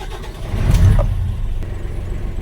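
An Isuzu 6UZ1 diesel engine with a low-power fault is cranked and starts, a brief low mechanical rumble that swells and settles into a steady idle.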